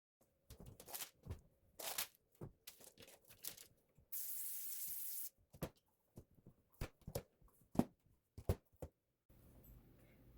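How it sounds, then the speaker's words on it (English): A short hiss of cooking oil spray onto a pan lasting about a second, surrounded by quiet clicks, taps and clatter of kitchen handling. "I'm gonna spray this. It's easy, but it will stick."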